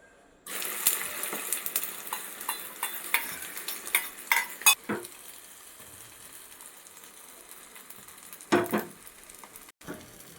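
Omelette egg batter hits hot oil with a sudden loud sizzle, followed by continuous close frying crackle, a few sharp metallic utensil clinks and scrapes, fading to a quieter hiss.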